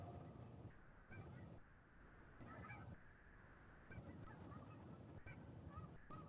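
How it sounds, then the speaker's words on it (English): Several geese flying overhead honk repeatedly in an uneven rhythm, faint and distant, over a steady background hiss. "listen to the geese flying overhead right here"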